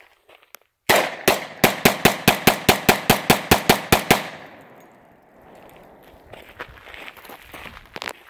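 A Glock 40 MOS 10mm pistol fires about fifteen rapid, evenly spaced shots into a tree stump outdoors, each sharp and loud, followed by faint rustling and movement.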